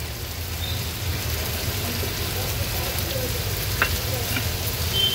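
Grated fresh coconut and salt are stirred into pumpkin sabzi in a pan, a steady close sizzle and frying hiss with faint scraping of a spatula throughout and no pauses.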